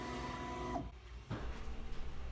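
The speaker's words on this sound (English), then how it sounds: "the first thing that the printer will do is to raise the bed up to the print head" Ultimaker 2+ 3D printer starting a print, with steady stepper-motor whine and tones that abruptly cut out, then a short mechanical clunk and resumed motor hum, heard close and alone.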